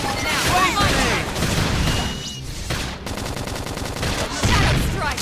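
Battle noise in Xenoblade Chronicles X, with dense rapid gunfire and crackling blasts that suggest a grenade going off, loud and continuous across the whole moment, with voices shouting over the combat.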